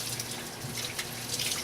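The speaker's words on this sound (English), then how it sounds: "to splash water on your face" Water is splashed onto the face to rinse off cleanser at a sink, giving a soft, continuous trickling and splashing that stays quiet and close.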